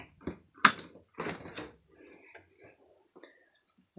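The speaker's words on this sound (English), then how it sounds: "Maybe I'll get the door open." The door of the kitchen fridge in a 2019 Wolf Pup RV is pulled open, giving a sharp click and thump followed by faint rustling and small taps, with no talk.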